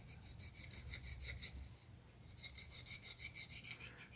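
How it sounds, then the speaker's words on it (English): Flat needle file rasping against a small model aircraft part for a Blackburn Monoplane build, in steady back-and-forth strokes, close and dry, with a brief pause midway and no talking. "Just going to use a flat permagret needle file for this."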